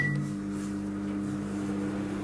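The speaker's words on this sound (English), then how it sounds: "So, okay, back to the microwave." A microwave oven runs with a steady low hum throughout, opened by one brief beep at the very start, close and moderately loud, with no talk over it.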